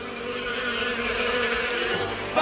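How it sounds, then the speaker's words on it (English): Cartoon bees buzz in a continuous, fairly loud droning hum that wavers slightly in pitch, with no talking over it. "Buzzing bees!"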